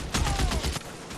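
Automatic weapon fire in the video game L.A. Noire, a rapid burst of loud repeated shots lasting under a second, followed by a short pause and another faint shot.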